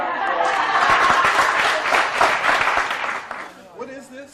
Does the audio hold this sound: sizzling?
no